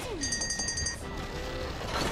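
A hacked security camera in BioShock 2 sounds a friendly alarm, a brief run of high, rapid electronic beeps lasting under a second, followed by quieter game ambience.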